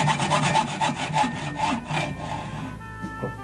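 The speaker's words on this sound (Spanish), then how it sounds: "Dame la cegueta, pues." A hacksaw cuts through wood with steady, rhythmic back-and-forth rasping strokes, close and fairly loud, then slows and fades near the end.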